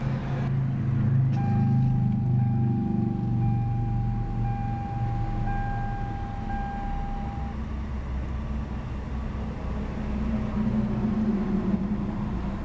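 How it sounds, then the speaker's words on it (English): A 2014 Hyundai Veloster Turbo's turbocharged Gamma 4-cylinder engine fires up and settles into a smooth, steady idle, a low continuous rumble with a faint whine, close and unaccompanied by talk. "Beautiful smooth purr from that newly developed turbocharged Gamma Series 4-cylinder power plant."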